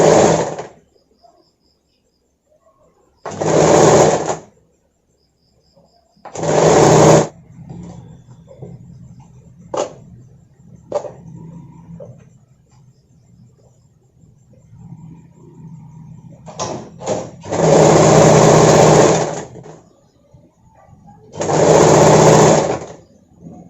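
A sewing machine stitches a katori-cut blouse in five loud, sustained whirring bursts. Quiet handling and rustling of the fabric fill the pauses between runs.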